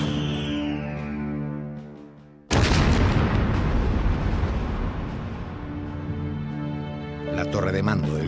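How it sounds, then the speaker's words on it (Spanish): A cannon shot's sudden loud boom bursts in and rolls on as a long, heavy rumble over a steady low musical drone, fading only slightly, as the ironclad Huáscar is blown apart in a naval battle. "Huáscar estalla pulverizada por un disparo"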